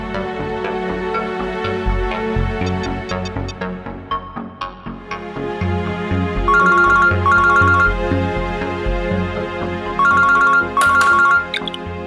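An outgoing phone call rings as a repeated electronic ringback tone in bursts, heard alone over a background of music.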